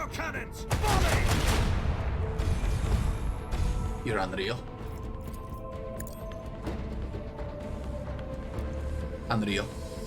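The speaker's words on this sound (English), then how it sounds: "Macro cannons, volley!" Macro cannons fire a volley in the Warhammer 40,000: Rogue Trader video game, a dense burst of heavy rapid blasts and booms up front, then rumbling echoes and whooshing effects trailing off beneath voices.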